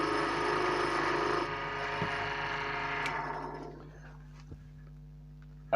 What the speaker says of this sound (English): The tool rest can go down.